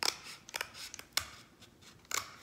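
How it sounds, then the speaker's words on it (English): Scissors snip through material while cutting out a homemade phone holder, a handful of short sharp crisp cuts spread across a quiet room. "maybe I'm gonna use my scissors"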